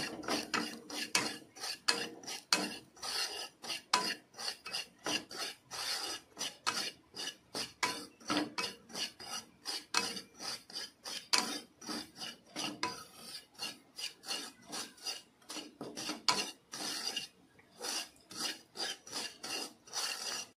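Dry semolina is roasted and stirred in a pan, giving close, rhythmic scraping and rasping strokes that repeat steadily with no talk.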